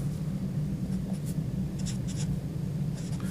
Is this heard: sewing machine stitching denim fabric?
no